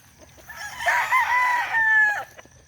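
A rooster crows once, a long drawn-out call at moderate distance over faint low background noise.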